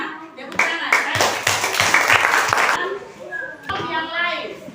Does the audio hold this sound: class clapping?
yes